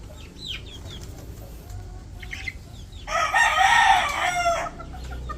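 A rooster crows loudly once for about a second and a half, following some softer clucks and calls from nearby fowl.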